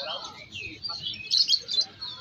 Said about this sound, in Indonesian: Itu kayaknya ada burung murai itu